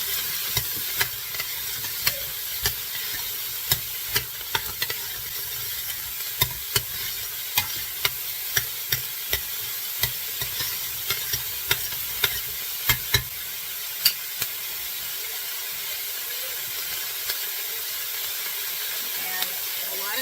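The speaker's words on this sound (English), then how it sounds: "I'm going to put in the celery and onions. Get that mixing together first a little bit." Celery and onions sizzle in a hot pot, a constant bright hiss broken by frequent sharp clicks and scrapes from a spoon stirring, with no talk over it.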